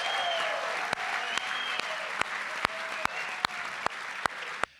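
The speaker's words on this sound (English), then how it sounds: "I need a raucous crowd tonight, ladies and gentlemen, because Nick Foles is in the house." A crowd at a Philadelphia Eagles celebration night applauds and cheers steadily, with a run of sharp, loud claps standing out close by, before the sound cuts off abruptly.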